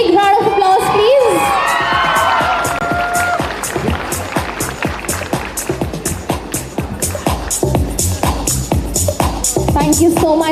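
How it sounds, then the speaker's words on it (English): Loud crowd at a school annual day celebration cheers, shouts and claps after an energetic stage performance, a dense roar of voices with children's shouts and rapid clapping throughout. "Can we give them a big round of applause, please?"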